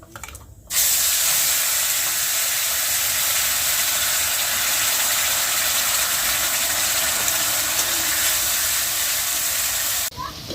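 Turmeric, salt and spices fry in hot oil, giving a steady, loud, even sizzling hiss that runs without a break for about ten seconds and stops right at the end.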